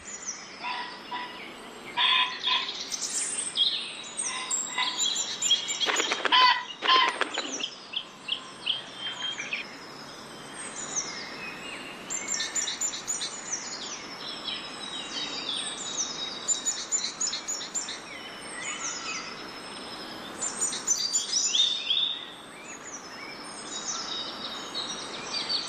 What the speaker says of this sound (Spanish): Cortantes gritos de pájaros rompen el verde silencio.